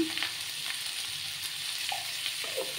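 Boiled potatoes frying in a pan with a little turmeric powder, a steady close sizzle with faint scrapes and small pops, no voices.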